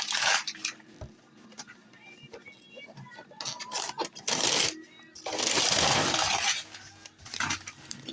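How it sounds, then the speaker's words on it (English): A Christmas present is torn open up close, with bursts of crinkling, ripping wrapping paper between quieter rustles and small clinks, while a voice speaks now and then. "now let's get this thing unwrapped"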